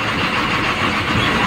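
Steady broadband rumble of an MSRTC ST bus engine running on the Murud to Borivali route, heard from inside the bus near Nagaon village. The drone is continuous and moderately loud with no clear breaks.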